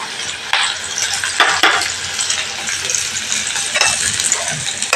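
Shallots and garlic frying in a hot pan for a clam roast: a steady hiss of sizzling oil with bursts of louder crackle and occasional scraping stirs, close and unaccompanied by voices.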